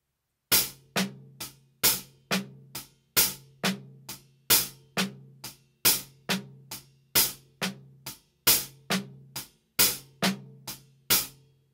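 A drum kit plays a steady triplet shuffle, with sharp accented hits in an even repeating pattern and soft ghosted snare notes from the left hand tucked between them, close and clear with no talking.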